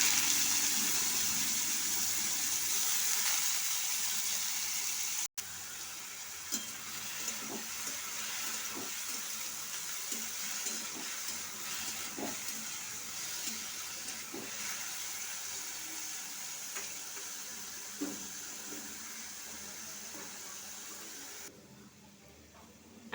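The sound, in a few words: potatoes frying in oil with nigella seeds and chillies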